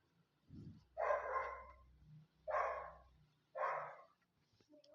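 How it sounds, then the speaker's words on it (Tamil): A dog barks inside a house in three loud, separate bursts, each about a second long, with a thump just before them and no talking around them. "உள்ளே நாய் இருக்குது, போக முடியல."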